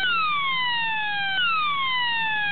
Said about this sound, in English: And if I leave it open for too long, it will trigger an alarm.